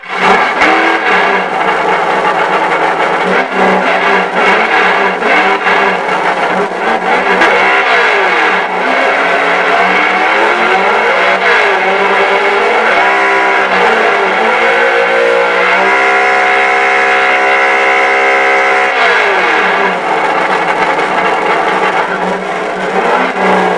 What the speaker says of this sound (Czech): aby se teda těch 900 koní toho zvukového modulu rozeřvalo na plné koule